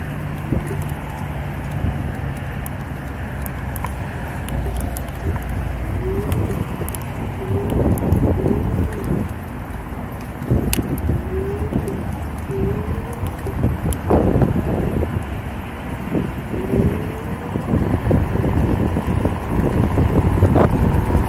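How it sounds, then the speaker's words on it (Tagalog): Steady wind buffets the microphone with low rumbling gusts throughout while riding a customized Kugoo electric scooter, along with scattered thumps and faint background sounds. "Mahangin."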